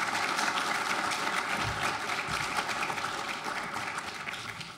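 A lecture audience applauds to welcome author Andrew Bacevich at a 2015 Meet the Author event, steady dense clapping that fills the room and slowly tapers off.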